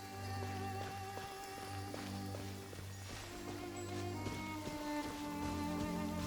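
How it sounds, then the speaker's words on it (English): Steady rain falls in a video game, a continuous hiss of droplets running under sustained tonal game music, with no clear voices over it. "It's raining again."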